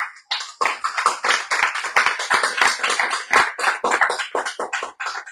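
A church congregation claps with dense, brisk hand claps at a general service in a house of prayer in Cuernavaca. The applause is loud and close, alone, and keeps up with uneven pulses for several seconds.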